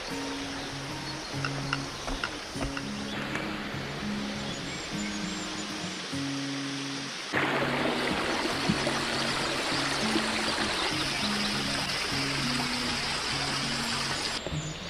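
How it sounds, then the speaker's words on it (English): A small stream flows beside a hiking trail on the Jordan River Pathway, a steady broadband rush of running water, growing louder midway, with faint low musical tones underneath. "Passing a small stream, another good water source."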